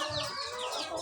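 Laying hens cluck softly in a poultry house, a brief, faint burst of overlapping clucks with no voices.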